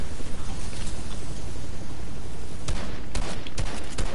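Rapid gunfire in the video game Fortnite fills the whole stretch as a dense, loud barrage, with several sharper shots cracking out toward the end.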